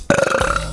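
A girl lets out a single loud, croaking burp, short and close to the microphone.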